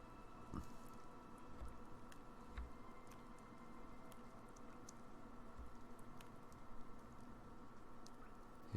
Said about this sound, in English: Hear the water dripping.